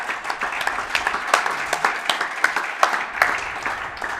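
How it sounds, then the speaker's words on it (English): An audience applauds young basketball players and their coach at a boys basketball showcase, a steady, moderately close patter of clapping with a few sharper individual claps standing out. "let's give these round of applause to these young men and to Coach Gibbons here"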